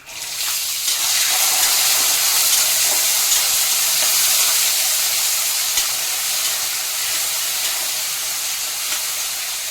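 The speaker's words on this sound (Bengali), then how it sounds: "ছোলাটা 2-3 মিনিট সময় ধরে ভেজে নিচ্ছি।" A steady, loud sizzle of soaked chickpeas frying in hot oil, a continuous hiss with faint crackles running throughout.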